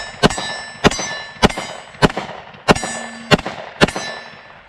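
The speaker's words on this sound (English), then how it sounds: "I'm going to do a mag dump on the big silhouette here" Tisas 1911 D10 10mm pistol firing a rapid magazine dump at a range target, seven sharp loud shots in a fairly steady rhythm, each with a brief ringing tail, no talking.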